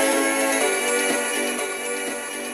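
Music from a Nokia N78's MP3 player, broadcast through its built-in FM transmitter to a radio, plays steadily and fairly loud in stereo with no talking.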